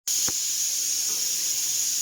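A pressure cooker of dal and rice on the stove lets out steam in a loud, steady, high hiss that starts abruptly and continues without a break, with a brief knock near the start.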